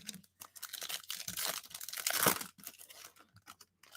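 2020 Stadium Club baseball card packs are torn open up close, with steady crinkling and ripping of wrappers that swells in the middle, and no voices.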